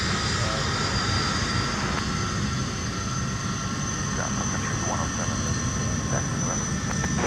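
An airliner roars on takeoff at Minneapolis airport, a loud continuous engine rumble with a high whine sustained throughout, faint radio chatter underneath.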